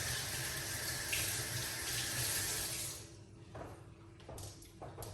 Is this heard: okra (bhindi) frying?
no